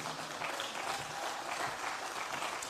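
Steady applause from a crowd at an outdoor German Unity Day singing event in Halle, sustained clapping filling the whole moment at moderate loudness.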